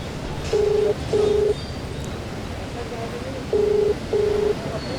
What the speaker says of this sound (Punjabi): ਇੱਕ ਵਾਰ ਫਿਰ ਤੋਂ ਫੋਨ ਮਲਾਉਂਦੇ ਆ ਔਰ ਦੇਖਦੇ ਆ ਫੋਨ ਚੱਕਦੇ ਨੇ ਜਾਂ ਫਿਰ ਨਹੀਂ